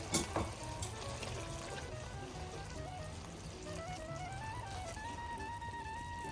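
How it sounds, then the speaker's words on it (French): Prosciutto sauce sizzles and bubbles in a pan after a half ladle of pasta cooking water is added, a steady close frying hiss that opens with a brief splash. "J'ajoute à la sauce une demi-louche d'eau de cuisson."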